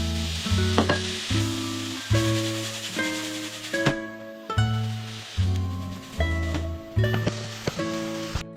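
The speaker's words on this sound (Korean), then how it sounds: "소고기는 첫날에 맥스밸류에서 사온 쯔유 소스로 조리해서 규동 스타일로다가 한 그릇 했다." Beef sirloin cooks gyudon-style with tsuyu sauce in a pan on a gas stove, a steady crackling sizzle running beneath loud, rhythmic background music.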